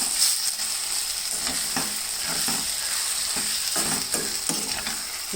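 Cumin and spices frying in hot oil for a brinjal (vankayi) curry: a steady, close, crackling sizzle runs throughout, broken by short scraping stirs.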